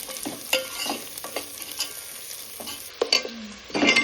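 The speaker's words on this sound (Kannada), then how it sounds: "ಕ್ಯಾಪ್ಸಿಕಮ್ ಹಾಕ್ಬೇಕು ಅಂತಲೇ ಅನಿಸುತ್ತೆ ಅದೇನೋ ಒಂಥರ ಚೆನ್ನಾಗಿರುತ್ತೆ ಸ್ವಲ್ಪ ಫ್ರೈ ಆಗಲಿ ನೀಟಾಗೆ" Capsicum sizzles in oil in a pan for a chicken biryani gravy while a spoon scrapes and stirs it in irregular knocks and scrapes, close and fairly loud, with no talking.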